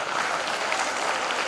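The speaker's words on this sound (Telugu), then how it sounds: "మీ గురించి మీరు చప్పట్లు కొట్టేసుకుంటారు సార్ గట్టిగా" An audience claps together in a hall at a defence academy gathering, a dense, steady wash of applause that holds evenly throughout without breaks.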